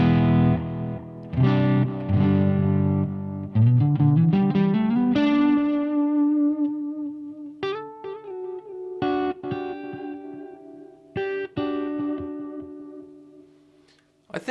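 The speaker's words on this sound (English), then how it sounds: "it sounds like this with the TC electronic flashback now" Electric guitar played through a TC Electronic Flashback delay pedal: strummed chords and single picked notes ring out with trailing repeats, sustained tones decaying between new attacks, no talking.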